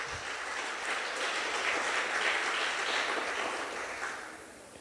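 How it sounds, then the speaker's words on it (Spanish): A church congregation claps for a few seconds, a full, even burst of many hands that swells slightly and then tapers off near the end. "dele palmas al que vive con todo su corazón"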